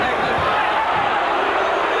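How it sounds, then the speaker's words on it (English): Boxing arena crowd at the 1989 Camacho–Mancini light welterweight title fight, a dense, loud roar of voices and jeering that holds steady without a break from start to end. "this crowd does not like the holding on tactics that Hector Camacho is using"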